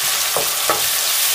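Chopped tomatoes hitting softened, sautéed onions in a pan for an egg masala, a steady broadband sizzle with two brief scraping stirs near the start, close and even, with no voices.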